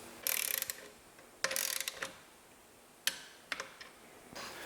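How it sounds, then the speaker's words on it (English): A ratchet fitted with a 1/2-inch socket tightens rear muffler hanger bolts on a touring motorcycle, producing several short bursts of rapid clicking separated by pauses, close and fairly quiet. "I'll change to the 1/2-inch socket and tighten the rear hanger bolts to 18 foot-pounds"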